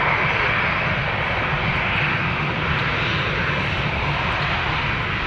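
Jet airliner engine at Toronto Pearson Airport, a loud, steady broadband roar that holds constant throughout without talking, like an aircraft passing or running up nearby.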